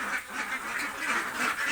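Ducks on a duck farm quack continuously in overlapping nasal bursts at a steady rhythm, a moderately distant flock calling with no talking.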